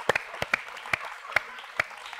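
Sparse, separate claps echo in a studio on an Indonesian TV variety show, with about nine sharp hand strikes spread unevenly over two seconds rather than a full ovation.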